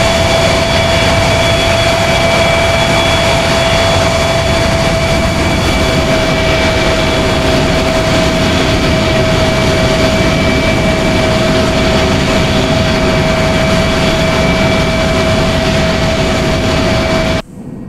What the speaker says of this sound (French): Je coupe la PC, la post-combustion.